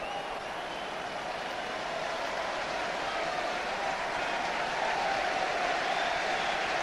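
A stadium crowd applauds steadily at a Leeds versus Roma UEFA Cup football match in 1999, a dense, even wash of clapping and crowd noise lasting throughout at a constant, moderately loud level.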